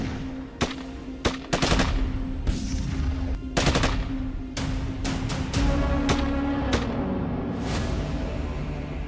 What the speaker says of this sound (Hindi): कई राउंड फायरिंग